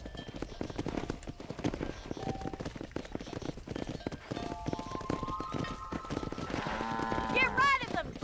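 Horse hooves in Red Dead Redemption during a cattle drive, a rapid continuous clip-clop of galloping under game sounds, with a person talking over it and a whistle-like tone rising near the end.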